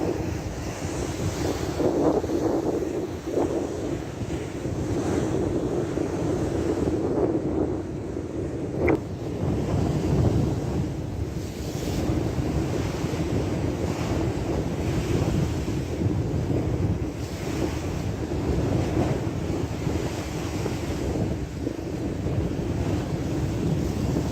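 Storm waves crash and surge continuously onto the shore at Bodrum during a winter storm with heavy rain, a dense roar heavily mixed with gusting wind buffeting the microphone.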